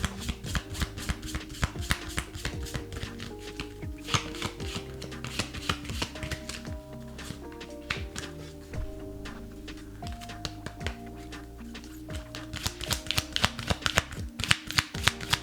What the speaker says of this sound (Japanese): まずルノルマンから1枚、カラーカードから1枚、 そしてオラクルカードから1枚もらっていきます。